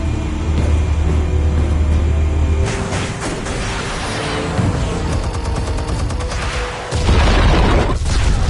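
Explosives in the Batman Telltale game detonate with heavy booms and rolling blasts, then a deep, loud low-end rumble near the end of a dense, cinematic sound mix.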